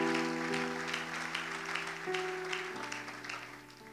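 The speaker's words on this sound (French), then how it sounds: "Est-ce qu'on peut acclamer le Seigneur?" Church congregation clapping to acclaim the Lord during a Sunday worship service, steady dense applause over sustained organ or keyboard chords, loud and continuous throughout.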